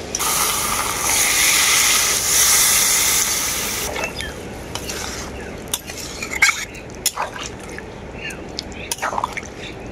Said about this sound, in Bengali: এখন আমি দিয়ে দেবো এর মধ্যে পরিমাণ মতো জল।